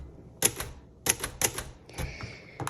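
A 1954 Royal Aristocrat manual typewriter typing over a character: a few sharp, close key strikes in an uneven rhythm, then a brief mechanical rattle of the carriage.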